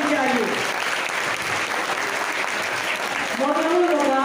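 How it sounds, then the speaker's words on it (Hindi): An audience at a prize distribution ceremony applauds, a dense, steady clapping that fills the hall for several seconds, with a voice speaking over it at the start and end. "तालियां होनी चाहिए।"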